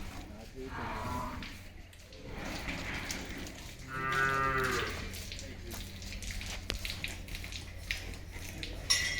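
A buffalo lows once, a deep drawn-out moo at close range on a dairy farm, with faint talk and farm noise around it.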